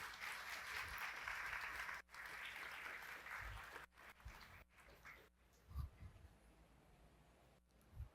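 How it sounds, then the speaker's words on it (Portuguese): Audience applause at a Brazilian library and heritage event, a dense spread of clapping filling the first four seconds, then thinning into scattered claps and faint room noise. "Uma salva de palmas, gente."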